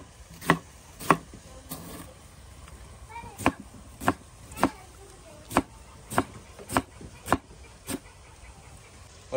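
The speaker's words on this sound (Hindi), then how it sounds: "टमाटर को हम बारीक बारीक काटेंगे।" Knife finely chopping tomatoes on a board, about a dozen sharp, evenly spaced chops knocking out one after another with quiet pauses between.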